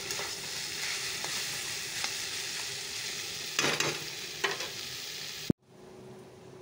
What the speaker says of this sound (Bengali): চাল কুমড়া ভাজা হচ্ছে।